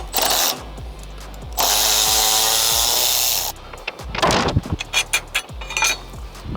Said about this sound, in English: we'll use the speed ratchet on this side to get it off